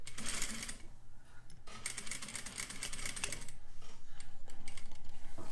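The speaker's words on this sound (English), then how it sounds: "I'm coming up to the end, and I'm going to backstitch at the end." A sewing machine backstitching at the end of a bias facing seam, a dense rapid mechanical rattle of stitching in bursts that stops and restarts, then settles into a steady run, close and without talk.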